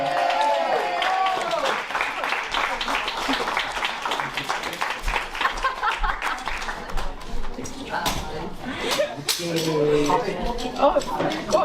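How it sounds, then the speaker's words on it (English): Wedding guests at a hotel reception applaud, scattered hand claps mixed with chatter, laughter and the clink of glasses and cutlery, fairly close and steady with voices talking throughout. "Give them a round of applause."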